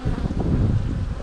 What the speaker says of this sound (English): not very happy bees.